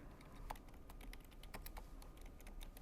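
Rapid, uneven clicks of typing on a computer keyboard while writing Android code, quiet and close with soft room hiss and no talking.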